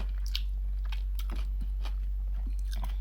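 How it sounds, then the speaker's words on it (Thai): Close, soft chewing and crunching while eating Thai chili paste with egg, a few irregular bites over a steady low hum. "กินน้ำพริกกับไข่"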